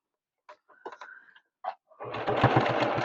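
A short sewing machine run stitches and back-tacks a dart on a fabric bowl cozy. It follows a few light clicks and handling noises, then comes a close, loud whirring burst of stitching with no voices.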